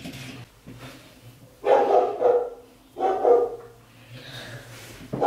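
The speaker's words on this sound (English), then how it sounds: "Sorry if you hear my dog barking." A dog barks a few times nearby, sharp loud woofs in two main bursts with quieter sounds between.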